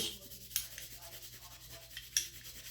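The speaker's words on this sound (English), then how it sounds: "Put a Scotch-Brite on it fast here." A Scotch-Brite pad rubs over the metal of an old Stanley Bailey No. 7 hand plane during restoration, a faint, close, steady scrubbing hiss with a couple of small taps.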